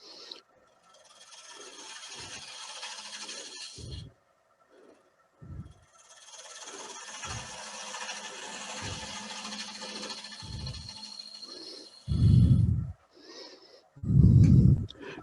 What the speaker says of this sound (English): I'm going back to regular spindle gouge to turn this.